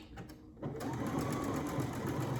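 A Brother Essence VM5200 sewing machine stitches a seam. After a brief quiet start, a steady, close mechanical whirr with a fast needle rhythm holds evenly to the end.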